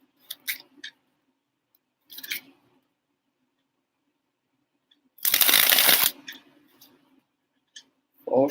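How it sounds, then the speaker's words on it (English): Playing cards shuffled by hand, with short riffles and snaps early on and one longer, louder riffle in the middle, close and clear against near silence. "Nice shuffle"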